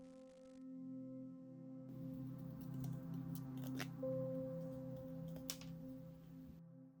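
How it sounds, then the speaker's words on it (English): Small scissors snip through the printed paper of a miniature dollhouse kit, giving quiet, close crisp cuts and a few sharp clicks over a faint background hum. "I'll try to cut it out with the small scissors I have."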